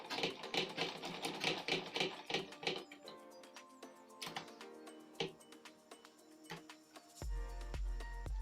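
A sewing machine stitches a beaded bag, starting with a quick run of rapid close ticking, then slowing to sparse clicks, and ending in a low steady hum.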